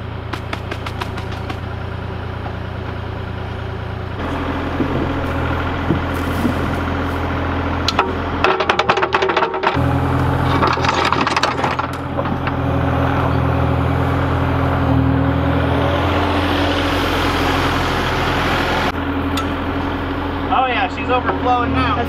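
A backhoe engine runs steadily at a loud, close idle while its bucket loads soil for filling raised beds, with metallic clatter and a few louder revving bursts, and people talking over the engine throughout.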